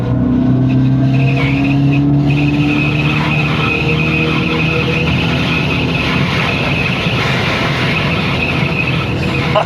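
Electric Dodge Charger Scat Pack accelerating hard at full power: a loud, steady synthetic whine with rising tones over dense road and tire roar, close and continuous throughout, with no speech.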